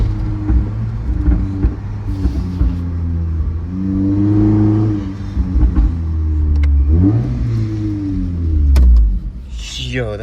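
A Toyota Camry with a pops-and-bangs tune revs up and down in rising and falling sweeps, loud and close, with some crackle as the throttle closes and voices talking beneath the engine.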